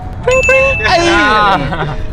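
A bright, ringing notification bell ding sound effect chimes several times in quick succession, loud and close, with people talking and laughing over it.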